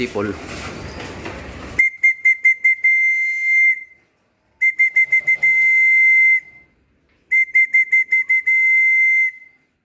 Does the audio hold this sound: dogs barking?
no